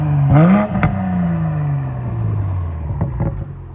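Straight-piped 3.0L TwinPower inline-six in a 2019 BMW X7 blips up sharply, then its revs fall away in a long, close, loud descending drone, with a couple of smaller throttle blips near the end.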